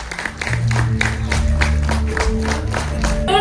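An audience claps and cheers as Pushkar and Gayatri are welcomed on stage, a sustained wash of applause under loud background music at a live event.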